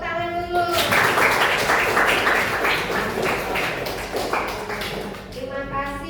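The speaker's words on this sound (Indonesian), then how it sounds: "Iya, tepuk tangan dulu." Classroom applause for a student group after their presentation in a problem-based learning lesson, a burst of brisk clapping from many children that starts after a voice and fades near the end.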